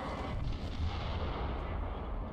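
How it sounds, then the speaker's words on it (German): Gunfire and explosions from the BioShock Infinite video game rumble continuously in the background as a dense, steady wash of distant booms and pops, with no voices. "Und ein paar Explosionen."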